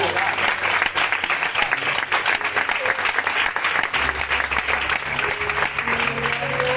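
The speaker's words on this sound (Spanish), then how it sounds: "Pero me aplauden igual" A church congregation applauds during a sermon on the book of Hebrews, steady dense clapping that carries on without a break, with some voices mixed in underneath.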